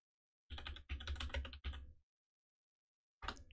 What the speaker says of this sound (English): Let me just type that in again.